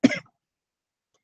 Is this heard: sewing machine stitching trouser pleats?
no